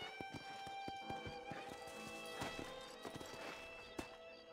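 Horse hooves in Red Dead Redemption, a regular clip-clop of a horse walking close by over an ambient musical background.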